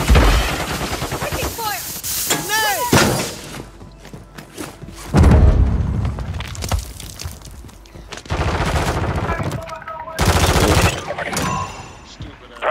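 Explosive bursts and rattling gunfire from a military shooter video game set against a hostile counter-UAV, heavy thumping blasts at intervals mixed with rapid shots and scattered in-game voice callouts.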